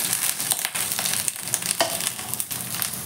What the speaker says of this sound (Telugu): ఇలాగ మధ్య మధ్యలో మిక్స్ చేసుకుంటూ వేపేసుకుందాం.